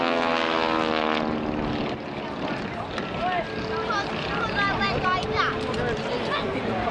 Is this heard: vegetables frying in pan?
no